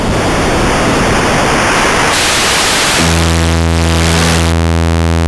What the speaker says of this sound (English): this noise goes from Nintendo and Atari-like chiptune